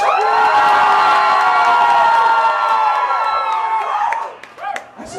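Concert audience at a show cheering loudly, with whoops, yells and clapping in a strong, sustained roar that dies down toward the end, leaving scattered shouts.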